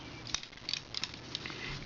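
Hands fold out on a Transformers toy figure from The Shield Battle in Space set, making a few small, close plastic clicks and snaps in quick succession.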